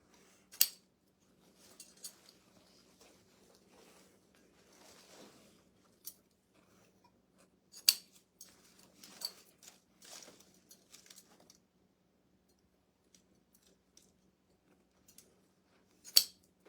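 Scissors snip the tails of decorative ribbons or picks while a wreath or tree is being designed, a handful of sharp, isolated clicks and rustles spread apart against quiet, with no talking.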